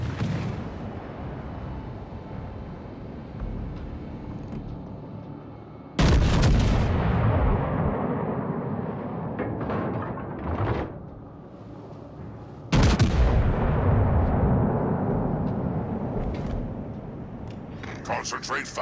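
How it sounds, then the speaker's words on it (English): Heavy warship guns boom in the naval video game World of Warships: Legends, two huge blasts landing several seconds apart, each trailing a long rumbling decay, with game voice lines and background noise between them. "Concentrate fire on the enemy warship."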